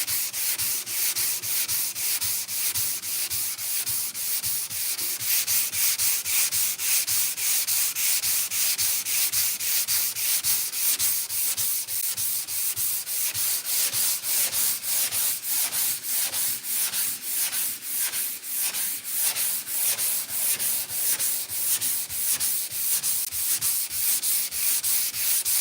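Sanding on the cab of a 1968 Chevrolet C10 truck: a steady, close, raspy abrasive rubbing that runs continuously at an even level throughout, with no talking.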